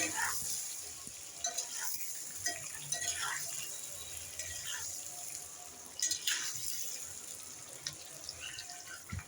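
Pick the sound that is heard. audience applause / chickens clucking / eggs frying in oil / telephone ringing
eggs frying in oil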